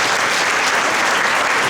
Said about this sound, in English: I want you to give a round of applause for it.